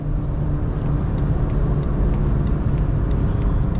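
Honda Accord with a twin-turbo V8 accelerating hard, a loud sustained engine roar from inside the car with a steady low drone and faint rhythmic ticks above it.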